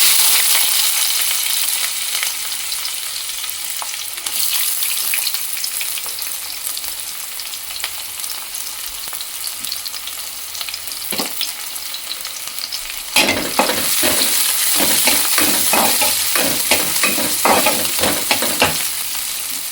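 Onions fry for a Kerala-style prawn curry, a steady loud sizzle with occasional stirring scrapes, and the crackle grows busier and louder partway through.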